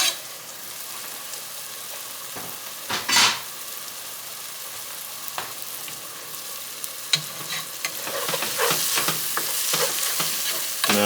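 Minced garlic hits a hot frying pan and sizzles while a utensil stirs and scrapes it around. Soft frying hiss runs throughout, broken by a few louder clanks and scrapes.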